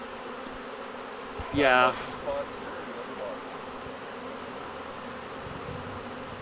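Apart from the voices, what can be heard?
honey bee swarm buzzing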